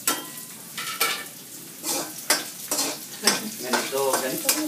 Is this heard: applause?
no